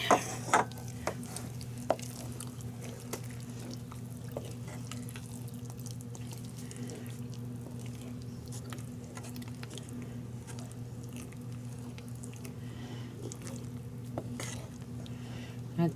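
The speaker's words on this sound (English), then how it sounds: "Let me stir them up some more" Food being stirred in a pot with milk gives soft, wet, squishy scraping at a steady pace, close and fairly quiet, with no talking.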